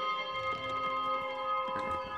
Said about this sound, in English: Alright, need to ring the bell.